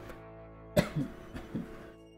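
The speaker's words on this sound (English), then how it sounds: "I'm so sorry about my coughing" Someone coughs while casually chatting about a Desperados III gameplay session, a sharp close burst followed by a couple of smaller throaty coughs and low murmurs, then quiet.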